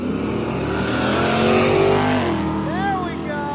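A drag racing car roars down the track at a Midwest drag event, a loud sustained engine drone that swells and then falls away, with someone talking over it near the end.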